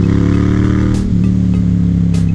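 Yamaha FZ-07 motorcycle engine braking while rolling downhill, a steady loud low engine drone with a held harmonic tone and constant wind rush, no voices.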